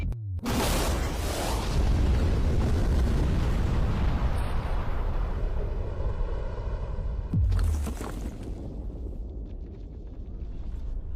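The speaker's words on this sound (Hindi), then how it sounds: "लेकिन ये एक असली धमाका है" A huge, deep explosion booms and rumbles for several seconds, followed by a second heavy blast and lingering debris noise fading out.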